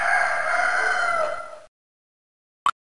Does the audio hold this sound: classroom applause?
no